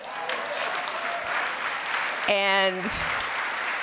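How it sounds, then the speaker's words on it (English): Audience applause rises through the room at a keynote talk, steady broadband clapping under a speaking voice that carries over it, with a short harmonic tone cutting through near the end. "claps for my grandfather"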